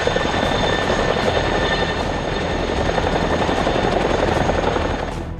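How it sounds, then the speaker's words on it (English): A CH-47 Chinook helicopter flying overhead, a loud continuous twin-rotor thrum with steady blade chop and whining turbine tones, close and unbroken, easing slightly at the end. "U.S. Army troops trained to sling-load M1301 infantry squad vehicles under CH-47 Chinook helicopters"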